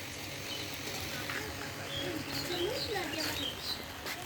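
Soft cooing and warbling calls of pigeons entering their coop at dusk rise and fall over a steady background hum, with faint voices murmuring nearby.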